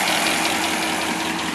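A rebuilt car engine with dual stainless exhaust idles steadily right after start-up, a loud, close, even rumble that holds without a break.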